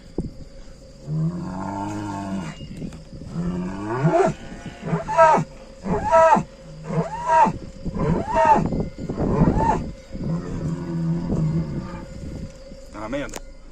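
Cows in a mountain pasture let out a run of loud, drawn-out moos in close succession, with a faint steady tone beneath them.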